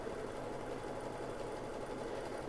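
An embroidery sewing machine stitching a mug rug design at home, a steady rapid mechanical whirring and ticking at a constant pace, faint and even throughout, with no voices.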